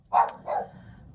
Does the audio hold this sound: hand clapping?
no